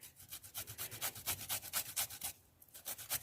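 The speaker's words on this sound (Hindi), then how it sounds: "इसको हम घिस रहे हैं" Fresh ginger scraped against a grater into milk, with quick, rhythmic rasping strokes close up, a short pause, and then the scraping starts again.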